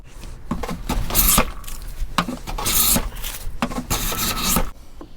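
Timber hand planed for a bass guitar build: several long, rasping strokes of the plane across the wood, each a loud swishing scrape with brief pauses between passes, close up and without talk.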